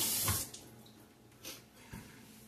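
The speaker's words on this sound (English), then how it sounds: "I want to wash my hands now" Tap water gushes briefly into a sink as hands are washed, starting loud and splashy, then thinning to softer trickles and small splashes, with no talking.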